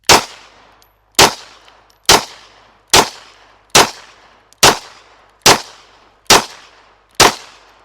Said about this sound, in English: we're getting ready to shoot this gun